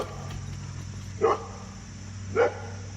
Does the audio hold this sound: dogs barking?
yes